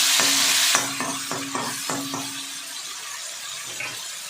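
Onion, garlic and tomato paste hitting hot oil on a gas stove for a potato and capsicum sabji, a loud hiss that settles while a spoon scrapes and stirs in quick strokes.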